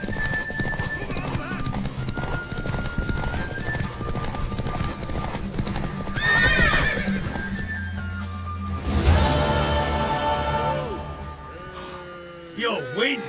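A horse in The Witcher 3 video game, rapid clip-clop of hooves galloping under a steady game music bed, then whinnies and neighing toward the end, with a few voices speaking over parts of it.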